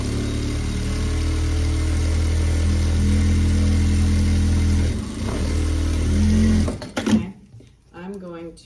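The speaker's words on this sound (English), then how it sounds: "I'm gonna sew along the bottom of the blade on the outside." A sewing machine runs in one long, steady, close whirring hum while stitching along the bottom of an Uluaq bag. It stops abruptly near the end, and a voice is briefly heard afterward.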